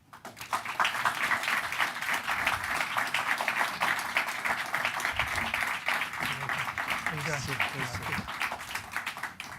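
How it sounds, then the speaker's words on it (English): A debate audience applauds steadily as candidates Gascón and Hochman come onstage for the District Attorney debate, a dense, continuous wash of clapping sustained throughout at a steady volume, with some faint voices beneath it. "There's going to be another chance for applause at the very end"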